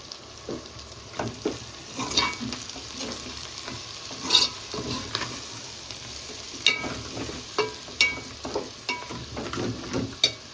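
Raw prawns with chilli powder and gongura fry in a pan while a spoon stirs, giving a steady close sizzle broken by regular scraping strokes and soft clinks.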